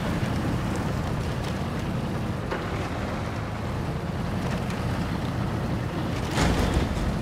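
A truck is in the water in the off-road game Expeditions: A Mudrunner Game, with a continuous wash of splashing and sloshing under a low engine rumble that swells briefly near the end.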